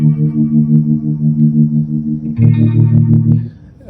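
An electric guitar plays sustained chords through the Hue multi-effect pedal. The chords are heavily processed with delay, diffusion and feedback, giving a loud, shimmering chorus-like wash. A brighter, more distorted swell rises partway through.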